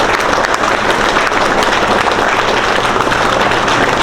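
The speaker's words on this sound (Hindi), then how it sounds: "तालियां बजाकर सभी कर्मी स्वागत कर रहे हैं।" Staff at a farmers' honour ceremony in Baroda, Rajasthan applaud to welcome guests, a steady dense clapping filling the space continuously and loudly, with no voices over it.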